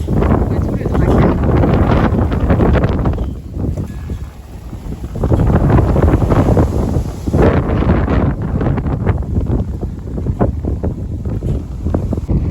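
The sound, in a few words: strong wind blowing at the harbour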